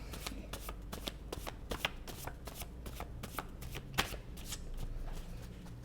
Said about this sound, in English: I'm going to have to do a tarot shuffle, maybe.